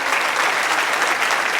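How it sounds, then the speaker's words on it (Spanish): A church congregation applauding during a service, a continuous, even wash of many hands clapping at fairly close range with no voices on top. "Fuerte ese aplauso al Rey de Gloria."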